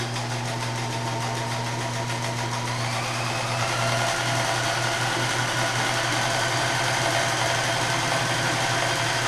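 A Kenmore 158.13500 sewing machine with a custom paint job runs flat out on a satin stitch, giving a steady, loud mechanical whir and hum that holds unbroken for about nine seconds.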